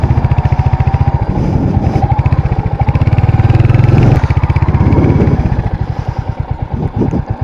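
Royal Enfield Hunter 350 motorcycle on a test ride, its single-cylinder engine thumping loudly and close up in a steady, rapid beat that swells and eases as the throttle changes.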